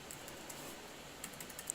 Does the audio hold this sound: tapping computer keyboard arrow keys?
yes